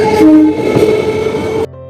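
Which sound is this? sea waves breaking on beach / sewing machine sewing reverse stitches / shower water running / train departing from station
train departing from station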